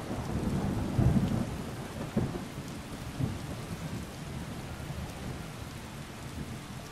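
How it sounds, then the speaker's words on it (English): Loud rolling thunder with steady heavy rain in the video game Skyrim Special Edition, a big rumbling crack near the start, then continuous downpour with lighter rumbles, no talking. "this is very loud thunder"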